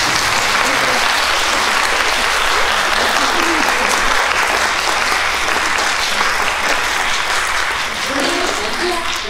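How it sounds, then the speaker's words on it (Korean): Loud, sustained applause from a concert audience at a 2022 commemorative music event, dense clapping filling the whole stretch without pause. "请大家用热烈的掌声给他们"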